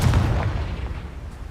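Booming spell blasts rumble through a Hogwarts Legacy battle on PC, a dense low-heavy burst that stays loud and then slowly rolls off over a second and a half.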